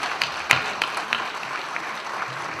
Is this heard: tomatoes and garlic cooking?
no